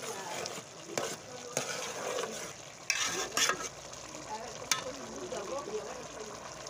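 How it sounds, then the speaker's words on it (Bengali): Bhuna khichuri fries in a pot, a soft sizzle broken by several sharp scrapes and clinks of a stirring spoon against the metal, fairly quiet with faint background sounds. "আর এই যে এখানে হচ্ছে খিচুড়ি রান্না করতেছি, ভুনা খিচুড়ি"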